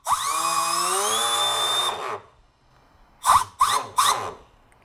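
An 11,000 RPM turbine-driven pencil sharpener whines loudly at a steady high pitch for about two seconds, then winds down, followed by three short sharp bursts of grinding as it is briefly run again.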